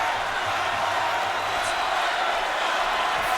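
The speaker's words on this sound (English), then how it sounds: "Crowd expectant, cheering their man on, waiting for the moment when he puts John on the canvas again" Boxing arena crowd during the Terence Crawford vs Dierry Jean fight, a steady wash of distant cheering and murmuring from thousands of spectators, continuous and even with no distinct outbursts.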